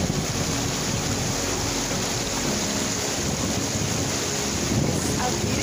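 Latourell Falls in Oregon pours in a steady, loud broadband roar of falling water, continuous and close with wind buffeting the microphone throughout.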